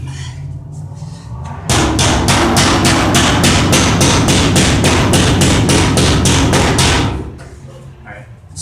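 Dense, rapid banging of a hammer against a bus wall during interior stripping, a fast steady pounding that runs for several seconds, close and loud, with people talking before and after.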